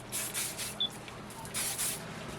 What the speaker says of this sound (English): you're just going to give that a little spray with some hairspray